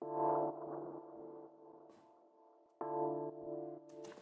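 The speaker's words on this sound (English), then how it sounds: "so that's just adding some of this kind of pitch modulation." A deep house synth chord played in a production session with its wobble character effect turned to 100, giving a sustained tone with gentle pitch modulation that fades and then restarts as a fresh loud chord, with no talk over it.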